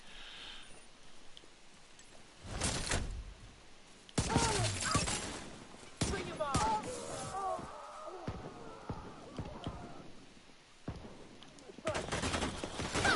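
Pistol shots from a one-shot build in The Division 2 crack out in a few loud, separate bursts, with game effects and clatter in between and a final burst near the end.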